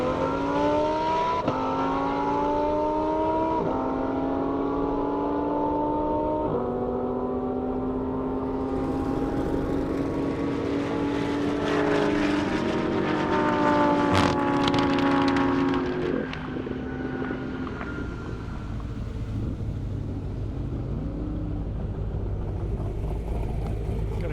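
Loud Lamborghini and BMW M5 race cars accelerate side by side down an airstrip, engines climbing through repeated gear shifts with rising whines, then roaring past and fading into a wind-blown rumble.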